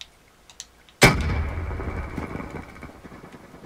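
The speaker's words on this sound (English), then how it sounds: "Oh, it's a burst! I hate the burst weapons!" Gunfire from a burst-fire weapon in the video game Black Ops 3: one sudden loud blast after a second of near-quiet, trailing into a long rumbling decay.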